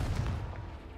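A single heavy blast from the Confringo blasting curse in Hogwarts Legacy, a low booming impact that rumbles and fades quickly, heard alone.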